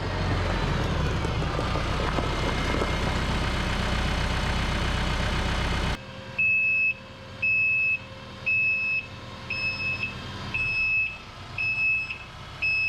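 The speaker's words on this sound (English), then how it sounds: "the backup alarm on that tractor" A tractor's backup alarm beeps in a steady repeating pattern over an idling engine at a timber frame house build site, preceded by several seconds of loud, rough engine roar.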